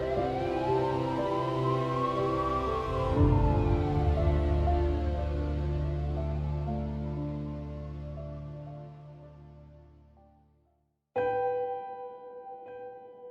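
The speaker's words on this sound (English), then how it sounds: "she heard an emergency siren" An emergency siren wails loud and near in long rising and falling sweeps that fade out toward silence, then a brief harsher tone cuts in near the end.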